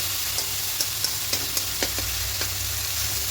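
A ginger, garlic, tomato and onion masala sizzles steadily in a pan, with a spoon scraping and knocking through it in irregular strokes, close and fairly loud, with no voices.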